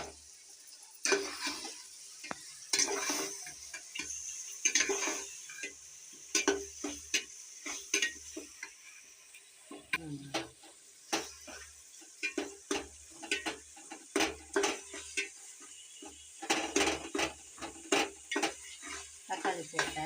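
Tomatoes added to a frying pan and stirred while vegetable rice is cooked, with soft sizzling beneath repeated scraping and clinking strokes of a spoon against the pan, fairly quiet and close.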